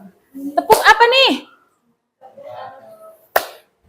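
Children in a classroom clap a quick patterned rhythm, a burst of sharp claps mixed with chanted voices, then a pause, softer talk and one last loud clap.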